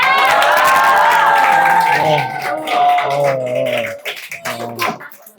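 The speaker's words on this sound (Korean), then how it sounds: "여러분 박수와 함성으로 제아를 깨워주세요." A big crowd at a school learning-sharing event cheers and shouts with applause, loud at first, then the excited voices thin out and fade toward the end.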